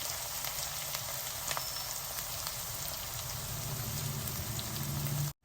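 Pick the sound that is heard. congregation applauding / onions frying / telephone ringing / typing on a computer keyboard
onions frying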